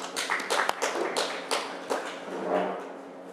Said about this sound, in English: I think applause for all of them, it's well deserved.